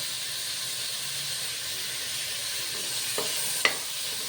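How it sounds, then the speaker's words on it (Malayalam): Tomato and green chilli sautéing in a pan for Malabar chicken biriyani, a steady soft sizzle and hiss throughout with a couple of brief clinks of a utensil near the end. "എന്നിട്ട് തക്കാളി ചെറുതായിട്ടൊന്ന് വഴറ്റിയെടുക്കണം."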